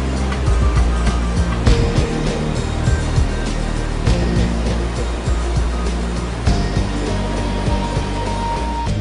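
The Dudhsagar waterfall in Goa rushes with a loud, continuous roar of falling water that fills the whole scene steadily and without pause.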